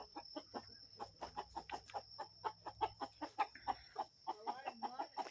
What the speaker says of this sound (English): It's a scaredy cat chicken.